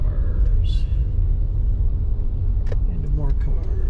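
Steady low road rumble of cars going by after Typhoon Mawar, with a brief hiss and clatter of a vehicle passing close; no one speaks.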